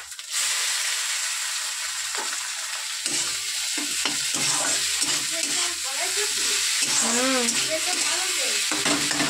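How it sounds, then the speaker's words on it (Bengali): Eggs fry in oil in a pan with a steady, close sizzle, and a utensil scrapes and stirs intermittently over the hiss. "ডিমগুলো কিন্তু বেশ ফ্রাই হয়ে গেছে।"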